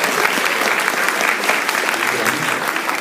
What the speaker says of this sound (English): Let's have a round of applause for the baritone.